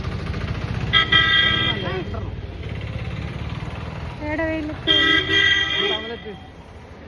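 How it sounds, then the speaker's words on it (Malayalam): Two loud car horn honks, each held about a second, sound over a running engine while people talk nearby. "അങ്ങനെ ഹോൺ അടിക്കല്ലേ ചെങ്ങായിയെ"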